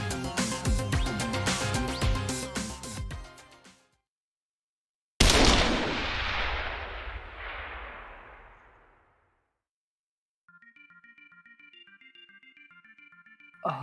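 A single loud gunshot in The 25th Ward video game, a sharp crack with a long decaying reverberant tail, following a stretch of music and then silence, with soft electronic tones afterward.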